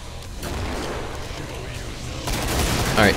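Rapid bursts of gunfire from the video game Killing Floor, dense and loud in sustained volleys, with a short louder stretch toward the end.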